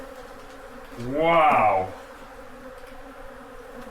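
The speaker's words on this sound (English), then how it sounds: "Look at all these bees" Bees swarm around an old honeycomb, a close buzzing drone that swells for about a second and then fades under steady background noise, with a brief spoken exclamation.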